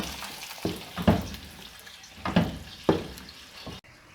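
Hot garlic ghee tempering crackles and sizzles in bursts as it is poured onto sarson ka saag, with a few sharp splashes as it hits the food, then cuts off abruptly.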